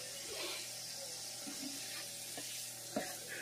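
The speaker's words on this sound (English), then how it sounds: "we'll give that another minute to saute here" Peppers and rice sauté in a pot for a vegan chick'n rice dish, giving a steady, quiet sizzle with faint crackles and a few soft stirring knocks.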